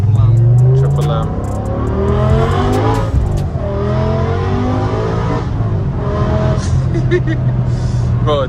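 A straight-piped BMW E60 M5 with a V10 engine revs hard, its loud, raspy exhaust rising and falling through several sweeping pitch climbs, with people talking over the roar.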